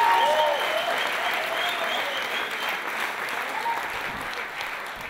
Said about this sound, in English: keep that a round of applause going for our first guest